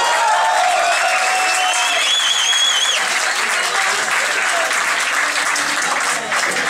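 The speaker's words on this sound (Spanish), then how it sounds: "un aplauso." Loud, dense audience applause fills a concert hall in Valparaíso after a guitarist is introduced, steady clapping with a few faint whistles running throughout.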